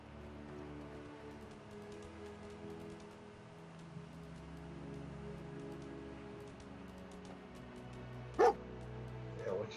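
In a video game, a dog gives a single sharp bark near the end, over a steady backdrop of in-game rain and low ambient hum.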